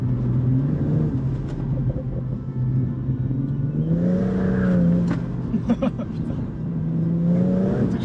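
A BMW M240i Cabriolet with an eight-speed automatic and turbo engine pulls hard from low revs, the engine note rising and falling in smooth swells heard from the cabin, with someone briefly talking over it.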